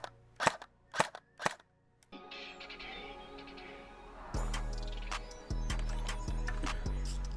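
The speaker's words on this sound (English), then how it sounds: "I'm quite impressed with the electric blowback on this gun. In semi-automatic and in full auto, it is quite nice sounding" JG 3000 SA58 carbine airsoft gun with electric blowback firing: three sharp, loud clacking single shots, then a mechanical whir and a run of rapid repeated bursts of cycling clatter, close and alone.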